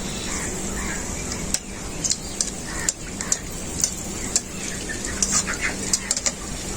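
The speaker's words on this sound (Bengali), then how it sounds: "ওই কড়াতে সরষের তেল দিয়ে দেবো। ফোড়নে দুটো শুকনো লঙ্কা দিয়ে দেবো।" Two dried red chilies sizzle in hot mustard oil in a kadai, giving a steady hiss broken by sharp pops and crackles, with faint crow caws in the background.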